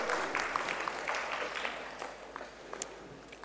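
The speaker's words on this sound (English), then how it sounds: "Huge applause for the next awardee of today's evening session." Scattered applause from an audience at an economic summit honouring an awardee, fairly faint and thinning out as it fades, followed by a sharp loud click at the very end.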